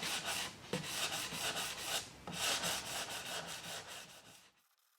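Painted wooden wall art made from roadside trash is hand-sanded to distress the finish, a close, steady back-and-forth rubbing rasp in rhythmic strokes that stops abruptly at the end.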